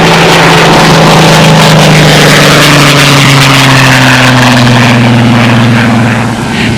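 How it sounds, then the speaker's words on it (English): Miss Ashley 2, an unlimited racing aircraft, roars past at an air race, its engine a loud, sustained droning growl that fills the whole stretch, with the pitch slowly sliding lower as it passes close by. "The plane you're watching is Miss Ashley 2, flown by racing veteran Gary Levitz."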